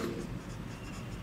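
Pen writing notes by hand during a biology lesson on human respiration, a soft continuous scratching of strokes that runs steadily and close, alone without talk.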